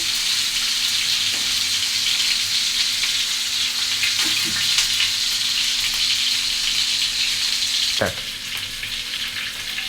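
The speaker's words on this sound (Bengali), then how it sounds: "শিক কাবাবের স্টিকগুলো দিয়ে দিচ্ছি আমি দুই পিস দুই পিস করে ভেজে নিচ্ছি" Seekh kebab sticks fry two at a time in a pan over medium heat, giving a loud, continuous hissing sizzle broken by a few soft knocks.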